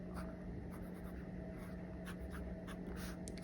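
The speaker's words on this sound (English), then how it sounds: "the TWSBI Go with a broad nib" A TWSBI Go fountain pen with a broad nib scratches faintly across paper in short strokes, a quiet close writing sound over low room hum.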